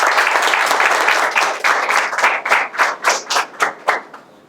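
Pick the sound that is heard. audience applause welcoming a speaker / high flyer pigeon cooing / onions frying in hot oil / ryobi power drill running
audience applause welcoming a speaker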